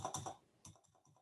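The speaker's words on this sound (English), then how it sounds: "I'm going to type in 5 million." Keys tapped on a computer keyboard while entering a number into a GIS query expression, a quick cluster of clicks followed by a few separate, softer presses, quiet and close.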